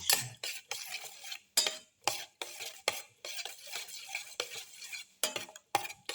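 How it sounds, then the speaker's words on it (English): Shallots are mixed into a winter melon omelette mixture with a utensil in a bowl, producing a rapid series of scraping, clinking stirring strokes in an irregular rhythm, close and clear with no talking. "Mix in the shallots with the rest of the mixture."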